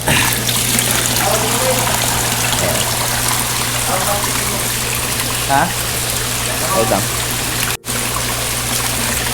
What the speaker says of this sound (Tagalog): every time lumalakas yung ulan, tumutulo dyan sa ating bubong na plastic na nasira